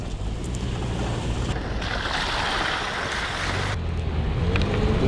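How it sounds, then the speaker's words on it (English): Vehicle splashing through a shallow river crossing on a beach, a loud continuous rush of water and engine noise with wind buffeting the microphone, swelling in the middle and easing near the end. "A little bit of a river crossing up here."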